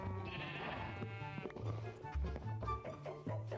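Animal bleating in Minecraft, repeated calls over a steady low in-game background with no one talking.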